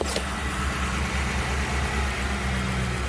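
A car engine idles steadily after an alternator repair, a low, even hum with a constant rumble and no revving, close by and alone.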